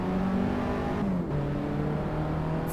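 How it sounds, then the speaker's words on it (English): Alfa Romeo race car engine in the racing game Assetto Corsa, a steady sustained drone with pitch shifting as it revs, with rival Fiat and BMW race cars on track, loud and continuous with no talk. "And I'm driving with this Alfa Romeo and trying to, of course, win this whole race."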